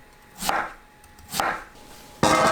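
Three separate knife cuts through peeled sweet potato, each a crisp slicing thunk through something firm, spaced about a second apart, close and fairly quiet.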